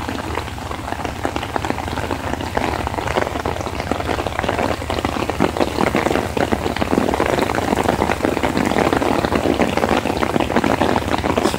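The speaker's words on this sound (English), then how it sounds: "It's really raining hard." Heavy rain pours down outside at a train station in Northampton, Massachusetts, a dense, loud, steady hiss and patter of drops hitting surfaces, with no voices.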